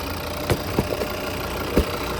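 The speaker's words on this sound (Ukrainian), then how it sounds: "Ось так у нас працює двигунчик" A five-cylinder diesel engine in a Volvo V50 D3 idles steadily at low pitch, with a few brief knocks and rattles breaking through the continuous hum.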